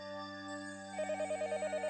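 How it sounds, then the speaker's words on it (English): Telephone ringing in the visual novel Higurashi: When They Cry, a steady electronic tone that switches into a fast repeating ring pattern halfway through, clear and unaccompanied. "The phone rang."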